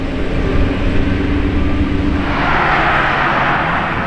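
A yellow Lamborghini Urus with yellow calipers and black wheels roars loudly nearby, a steady broadband engine rumble that swells slightly partway through.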